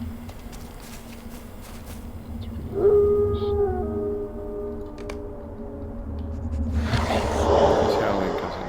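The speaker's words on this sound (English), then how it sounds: "He's howling because he knows it's almost over for him." A creature in the online game Lord of the Rings Online, in the Barrow-Downs, lets out one long, loud, wavering howl that rises then fades, followed by a rushing swell of game sound.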